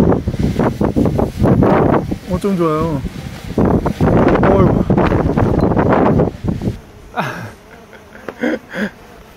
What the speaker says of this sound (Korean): 이렇게 바람이 불어가지고 식겁할 정도인데.